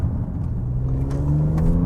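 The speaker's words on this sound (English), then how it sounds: "That engine sounds really nice, and it revs decently too." A 2023 Audi S6 engine revs as the car accelerates on a twisty road, its loud, close drone climbing steadily in pitch with no voices over it.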